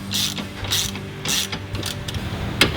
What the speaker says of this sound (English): we would then want to draw the U-bolts up evenly while keeping the bar close to the center as possible